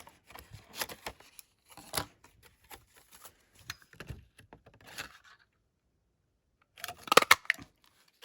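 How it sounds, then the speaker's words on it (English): Scissors snip through a paper card in short clustered bursts of crisp cuts separated by quiet pauses, close and fairly soft, with a sharper flurry near the end. "I might need to snip away at this."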